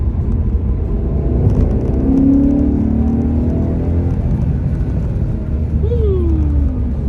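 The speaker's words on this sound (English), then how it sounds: "I love the rev matching on the downshifts. Sounds so good. You can hear that rev matching." A 2005 Maserati GranSport with a 4.2-liter Ferrari-derived engine blips its revs on downshifts, a loud rising and falling engine sweep over steady road rumble, with a sharp rev flare near the end.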